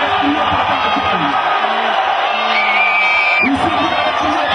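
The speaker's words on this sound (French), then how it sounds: "vous allez crier pour répondre à Joy." A rally crowd shouts and whoops back in response to a speaker at a French political event, a loud, dense mass of yelling voices that swells and holds throughout.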